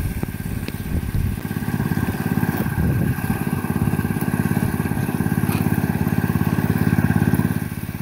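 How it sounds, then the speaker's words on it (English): A high banker runs at a gold mining site to break up clay clots, its small engine humming and chugging steadily up close, with water and gravel clatter layered over it. "we're running the high banker right now so we can make sure we break up our clay clots"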